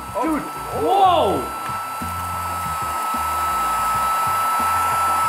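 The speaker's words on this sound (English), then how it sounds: "It's a humane vacuum." A tiny handheld vacuum runs with a steady, high whirring motor hum after someone briefly shouts over its start-up.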